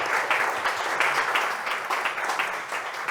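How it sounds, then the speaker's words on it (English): Audience applause fills a cigar lounge, a dense, steady wash of many hands clapping together, fairly close and continuous with no talking over it. "Give him a round of applause, man."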